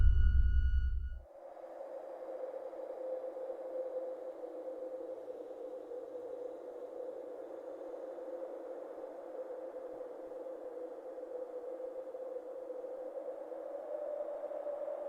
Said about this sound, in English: I can hear that wind.